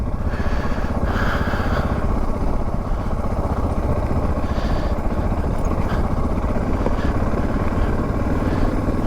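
Suzuki DR650 dual-sport motorcycle riding along a dusty dirt road, its single-cylinder engine a steady loud throbbing drone with wind rush and faint clatter throughout.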